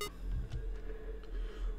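In the horror game Five Nights at Candy's 2, a phone gives rapid electronic dialing beeps used to lure animatronics, a close, steady run of tones over a low background hum.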